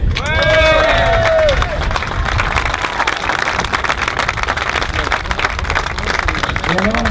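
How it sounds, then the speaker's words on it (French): A dense crowd on a pontoon at a Route du Rhum sailing race departure breaks into loud, sustained applause and cheering, with a whistle rising briefly at the start and voices mixed into the noise. "Vous avez le droit d'applaudir."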